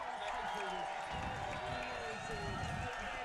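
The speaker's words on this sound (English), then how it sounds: "as this raucous crowd welcomes on their home team" A raucous home rugby crowd cheers Old Glory DC onto the pitch against Shannon RFC, a continuous wash of crowd noise with a commentator talking over it.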